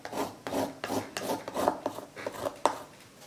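A toothed rasp is drawn across the wooden neck pocket of an Epiphone EB-0 bass, giving about nine close, dry rasping strokes in a steady back-and-forth rhythm with no talking.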